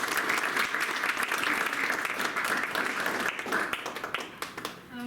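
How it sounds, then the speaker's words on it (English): Sustained audience applause fills a poetry reading, dense steady clapping from a crowd that thins slightly toward the end. "Cue applause."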